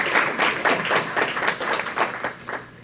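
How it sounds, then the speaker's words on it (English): Volunteers supporting mental health awareness at a Go Fetch Wellness and McLean Hospital gathering applaud together: a brief, fairly close burst of clapping that pulses unevenly and then tapers away, with no talk over it. "So please give yourself a round of applause."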